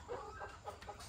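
Young laying hens, a flock of about 150 pullets on a Thai farm, clucking at feeding time; several soft overlapping clucks in quick succession, close and moderately quiet.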